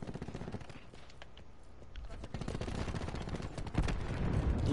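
Rapid gunfire from a Black Ops 4 video game match rattles in dense bursts throughout, growing louder toward the end, with no talk over it.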